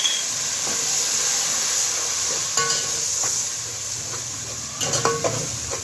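A steady, loud sizzling hiss as a little water is poured into a hot frying pan of garlic and ginger while cooking mixed vegetables, with a few light clinks of utensils against the pan.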